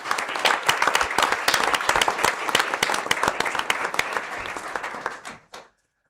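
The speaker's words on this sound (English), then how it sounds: "Please join me in giving Chris a heartfelt round of applause" Audience applause for a retiring staff member at a university board of trustees meeting, dense clapping from a full room lasting several seconds before stopping abruptly.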